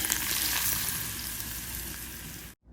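Loud, steady sizzling of tempering spices and curry leaves dropped into hot oil, crackling continuously for a couple of seconds before cutting off abruptly.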